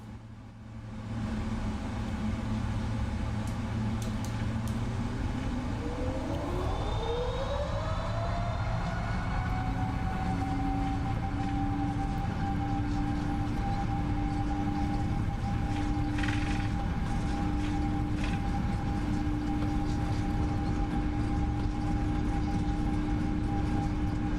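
PMDG 777 jet spooling up for takeoff in Microsoft Flight Simulator 2024, a steady engine roar with rising whine tones that sweep upward and then hold as thrust builds.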